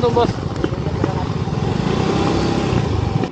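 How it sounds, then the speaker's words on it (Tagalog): Motorcycle engine running steadily at a rural riverside parking area near a forest waterfall trail, a continuous low rumble with a brief burst at the start, heard near and fairly loud throughout. "Pasok na natin yung motor."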